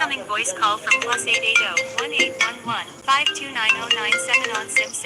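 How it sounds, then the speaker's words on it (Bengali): A melodic phone ringtone plays loudly and steadily, its tune repeating, with voices overlapping at times. "মানে অলরেডি ফোন চলে আসছে"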